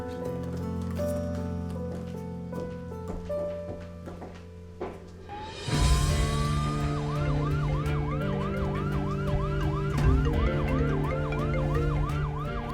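An ambulance siren wails nearby, first a steady tone under a drone, then rising into a fast repeating yelp that cycles loudly for several seconds.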